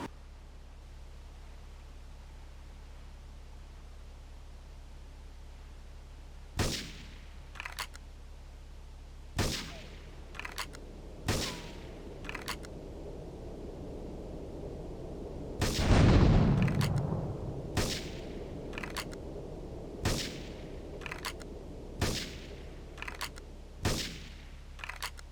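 Gunfire and explosions in the video game Grand Theft Auto 3, Definitive Edition: a string of sharp single shots spaced through the scene, with one heavier rumbling blast near the middle, over a steady low hum.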